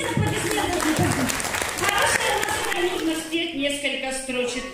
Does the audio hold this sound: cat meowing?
no